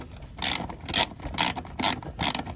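A hand ratchet loosening 7mm bolt heads on a 3rd-gen Toyota 4Runner turn signal in the bumper: five quick clicking ratchet bursts in steady rhythm, close and crisp, with no talking.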